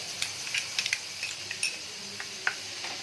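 Crushed garlic dropped into hot oil in a karahi, a soft continuous sizzle with scattered light clinks of a spoon against the metal pan, no voices.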